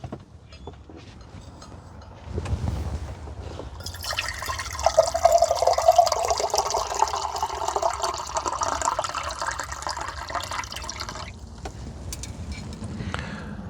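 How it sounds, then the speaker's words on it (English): Water pours steadily into a container, a rising gushing stream that starts after a short pause, runs for several seconds, then stops. "I need to fill my water up here"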